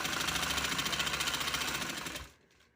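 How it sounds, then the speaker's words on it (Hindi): A sewing machine stitches piping onto a kurti in a fast, steady mechanical whirr, close and continuous before stopping abruptly near the end. "ठीक है, अब सिलाई लगा देना।"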